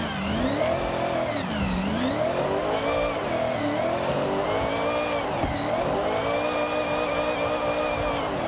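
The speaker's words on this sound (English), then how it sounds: "That exhaust sounds brutal, though." A Mitsubishi Evo IX drift build's engine revs up and down repeatedly in Forza Horizon, its exhaust roaring with sweeping pitch changes, loud and continuous.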